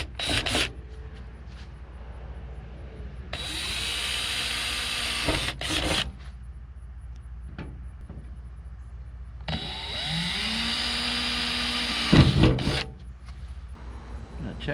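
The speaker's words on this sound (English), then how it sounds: "So I'm going to drill pilot holes for all of these." Power drill boring pilot holes in a new aftermarket steel door shell for a 1988 Chevrolet Suburban, two sustained whirring bursts of a few seconds each with pauses and clicks between.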